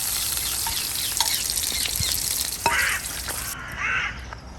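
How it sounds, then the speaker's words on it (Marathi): Prawns frying in a pan for a Spanish seafood paella give a steady, dense sizzle and hiss, broken now and then by soft clinks and stirring. "सुंगटां बी हे भाशेन तळसून घेवप."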